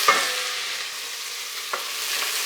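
Food blistering and sizzling in hot oil in a pan, a steady close crackling hiss that runs throughout with a brief clatter near the start and another near the end.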